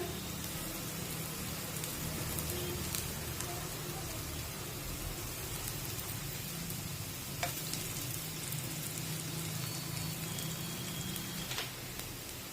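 Jowar flour thalipeeth frying in oil on a pan, a steady close crackle and sizzle throughout with a couple of faint clicks, no voices.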